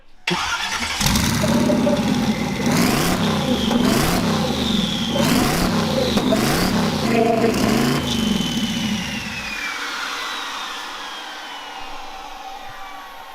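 A burnout pacer car engine revs repeatedly in rising and falling surges, loud and close, then settles into a steadier whine as it winds down; a bearing may be failing.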